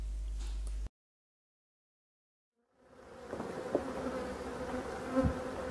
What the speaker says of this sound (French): Quand les abeilles sont en colère, ça risque d'être bourdonneux.